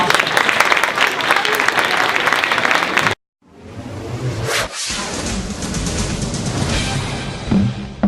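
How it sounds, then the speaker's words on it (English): An audience at a Common Core Q&A panel event gives a round of applause, a dense burst of clapping that cuts off abruptly, followed by a whooshing transition and more noisy crowd sound. "a great round of applause"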